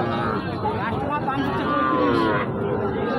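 Young bulls low and moo repeatedly amid a noisy crowd of people chattering nearby at a cattle market near the Indian border.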